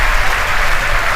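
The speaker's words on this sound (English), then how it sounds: "The crowd's going nuts here at SpaceX headquarters in Hawthorne." A crowd cheering and applauding at SpaceX headquarters in Hawthorne during a Falcon 9 first-stage recovery on a drone ship: a dense, steady roar of clapping and shouting with no pauses.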